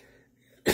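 A single loud, abrupt cough from a lingering, persistent cough bursts out near the end, close to the microphone, after a stretch of near silence with faint background hum.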